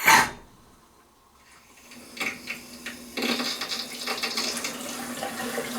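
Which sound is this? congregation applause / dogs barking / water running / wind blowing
water running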